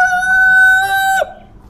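A Light Sussex rooster crowing on a rooftop farm, one loud, close, sustained cock-a-doodle-doo with a clear tone that drops off sharply at the end.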